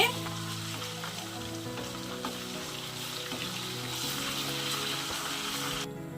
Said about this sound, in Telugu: అల్లం చిల్లిపాయి వేగిపోయిన తర్వాత కొంచెం గోరెచ్చగా ఉంది నూనె